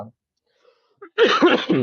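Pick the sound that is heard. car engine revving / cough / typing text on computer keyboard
cough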